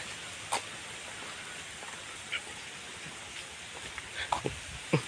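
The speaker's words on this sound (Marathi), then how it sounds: "वारं भरपूर सुटला आणि पाऊस पण पडता बारीक बारीक" Light rain falls outdoors beside a Konkan creek as a strong wind blows, making a constant broad hiss broken by a few sharp close taps and knocks; no one speaks.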